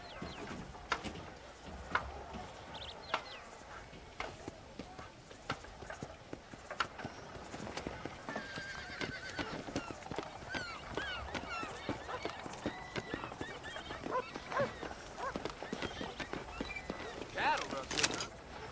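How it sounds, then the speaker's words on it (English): Horses clip-clopping in the Western video game Red Dead Redemption, steady hoof patter at moderate distance mixed with bird-like calls and game ambience, with speech-like sounds present at points. "Do you see those horses to the left by the building across the street?"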